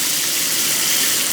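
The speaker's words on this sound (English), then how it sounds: "this button, when it's on the normal faucet mode, becomes a high pressure sprayer" Water gushes hard and steady from the high-pressure sprayer of an Aritqua waterfall kitchen faucet into a sink, a loud, close, continuous hiss with no voices.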